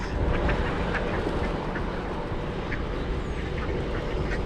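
Ducks quack repeatedly in the distance over a steady low rumble of outdoor background noise, the calls faint and scattered.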